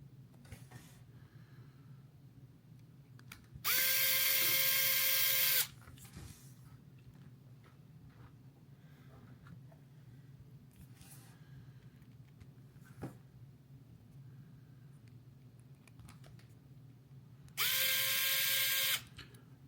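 A power tool tightening bolts on LGRP Cyclone beadlock wheels fires in two loud bursts of about two seconds each, well apart, over a quiet background with faint shop noises.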